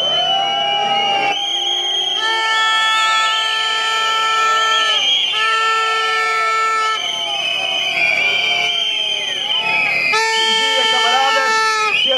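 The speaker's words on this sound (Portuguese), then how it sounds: "Intervalo para mais uma vaia." A crowd boos and jeers at a union protest rally, with air horns blaring in long sustained blasts and shouting voices throughout, loud and close.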